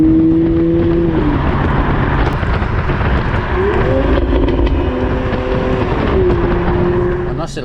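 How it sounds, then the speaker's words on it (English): A 2019 Toyota GR Supra in sport mode revs and lifts off the throttle. The engine note rises and falls while a few sharp exhaust crackles and burbles sound on the overrun, close and loud throughout. "A nice little pop and burble there on the overrun"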